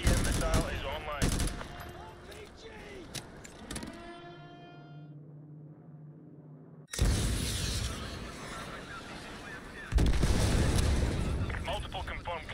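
Call of Duty: Modern Warfare 2 Remastered combat: loud, dense machine-gun fire and heavy explosive blasts from AGM missile strikes, then a brief lull with a low hum before the barrage resumes. Voices from the game can be heard among the firing.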